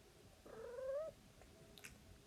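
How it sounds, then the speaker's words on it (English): A single drawn-out cat meow, fairly faint and slightly distant, rising then falling, followed by a brief quiet click. "if you hear a cat going meowing, that's what it is"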